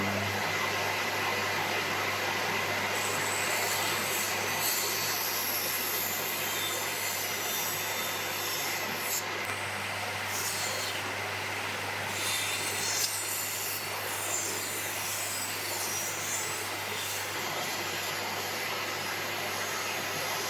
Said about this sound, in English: I'm going to be turning the extraction on for the machine, so I apologise now about the noise.